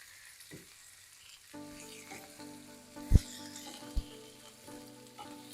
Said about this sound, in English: So it's on high heat. We're just going to keep stirring this.